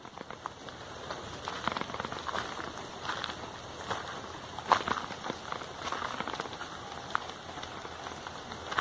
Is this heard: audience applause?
no